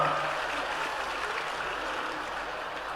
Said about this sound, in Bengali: আমরা অনুরোধ করব এদের জন্য কিন্তু একটা জোরে করতালি দেওয়া দরকার।